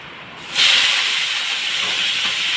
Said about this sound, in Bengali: দিয়ে দিলাম এবার আলুগুলো লাল লাল করে ভেজে নিই